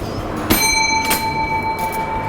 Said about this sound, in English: doorbell to their kitchen door